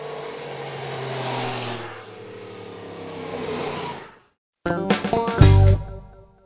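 A motorcycle engine revs up and falls back in rising and falling sweeps, then cuts out; after a short silence a burst of louder, harsher sound follows.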